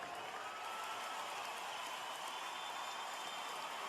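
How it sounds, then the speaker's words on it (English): Steady crowd applause at a basketball game, a sustained standing ovation heard as a dense, even wash of clapping throughout, with no voices standing out. "The ovation."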